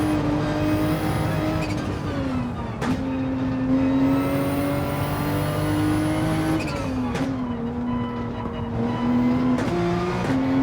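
Several race cars at full throttle in a touring car racing video game on the Nürburgring, loud continuous engine whine with pitch shifting as gears change, no talk.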